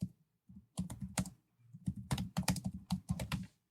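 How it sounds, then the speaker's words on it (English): Typing on a computer keyboard comes in quick, close clattering bursts of keystrokes with brief pauses, fairly quiet and alone. "Is this typing interesting?"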